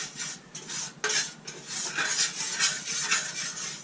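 A utensil scraping and stirring a flour roux in a pot for gumbo, a steady rhythmic swishing and scraping against the pot bottom, close and continuous with no talking.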